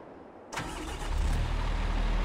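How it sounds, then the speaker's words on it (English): A video-game tractor engine in Farming Simulator 22 cranks and catches, then settles into a loud, steady low rumble, close by, with no voices. "Listen to that engine purr."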